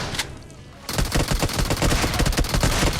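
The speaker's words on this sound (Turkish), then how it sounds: "Bütün mermilerim duvara değdi kanka." Rapid continuous gunfire from the PUBG Mobile battle game, loud and dense, starting after a brief quieter moment and hammering on for the rest of the short clip.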